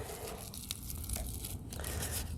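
Dry coneflower seed head peeled apart by hand, giving close, steady crackling and tearing rustles with small crunchy bursts throughout, no talk.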